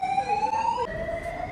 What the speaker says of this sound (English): And then the fire alarm went off.